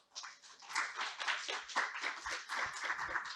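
An academic session audience at the 2021 Jeju Forum applauds its presenters, a steady patter of many hands clapping together, moderately loud and sustained with a few louder accents near the end.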